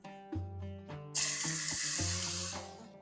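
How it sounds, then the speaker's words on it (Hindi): Garlic hits hot cooking oil in a kadhai and starts to sizzle, a sudden bright hiss that holds steadily and then slowly fades, with faint instrumental music underneath and no talking. "ऑयल को गर्म करने के बाद इसमें डाल देंगे लहसुन"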